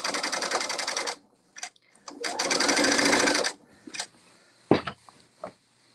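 A sewing machine stitching a kimono runs in two rapid, buzzing bursts, each about a second long, separated by pauses. Brief clicks and handling noises follow.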